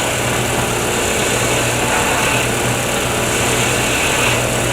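Wood lathe making a planing cut along a spinning pen blank, a steady loud continuous whir with a low hum, even and unbroken throughout.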